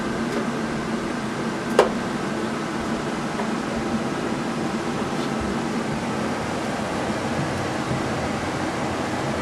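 Gas furnace blower running during a furnace repair, a steady close whooshing hum of moving air with a faint click early on.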